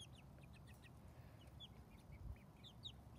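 Soft clucking and chirping from a few chickens, quiet and scattered over a low background rumble.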